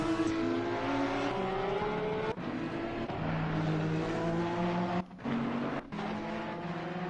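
Race car engines from a sim racing game, including a McLaren, howling loudly and close with rising and falling revs through gear changes and a brief drop as a car passes, with no speech.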